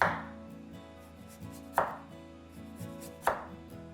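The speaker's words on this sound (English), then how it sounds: "Now I'm just gonna get these nice and thinly sliced." Knife thinly slicing a small whole turnip (rutabaga) on a board, three crisp sharp chops spaced about a second and a half apart over a low steady background, with no talking.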